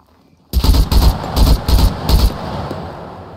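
Rapid bursts of gunfire in the survival video game SCUM, about five loud clustered volleys of shots in quick succession, close and punchy, then fading into a lingering echoing tail.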